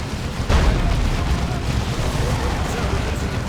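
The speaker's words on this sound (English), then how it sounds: "Demolisher Cannon goes off again" A Demolisher Cannon fires in a Dawn of War 2 3v3 battle, a heavy boom at the start that gives way to a sustained rumbling roar of battlefield noise, with a voice talking faintly underneath.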